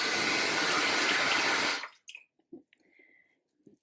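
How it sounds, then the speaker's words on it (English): Water pours steadily into a bowl of scooped squash seeds and pulp, a loud close rush that stops abruptly after about two seconds, followed by a few faint clinks and soft handling sounds. "I like to put some water in my bowl."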